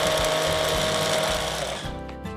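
A mini food processor whirs steadily as it blends pumpkin soup with finely chopped herbs, a loud close motor drone that runs continuously before winding down near the end.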